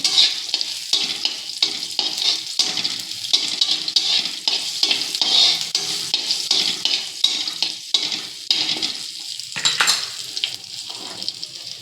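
Garlic fries in a pan for capsicum sambar, with a continuous close sizzle broken by repeated scraping and stirring strokes of a utensil against the pan.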